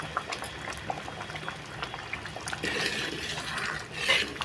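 Semiya payasam bubbles in a pot in a steady soft boil, with a small burst of louder bubbling near the end and no talk.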